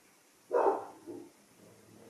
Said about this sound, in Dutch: hoor je hondje waffen?